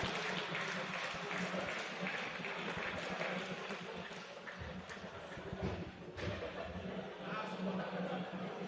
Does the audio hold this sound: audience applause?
yes